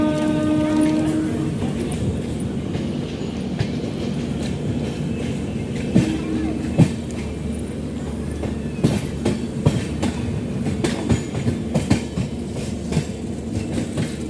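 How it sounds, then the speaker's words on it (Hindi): Inside a moving Dibrugarh-Chandigarh Express passenger train, a loud steady rumble carries sharp clickety-clack wheel knocks as the rails change, with faint talk in the background. "किसको किसको ये बहुत ही मतलब रिलैक्स वाला फील देता है, ये पटरी जो चेंज होता है"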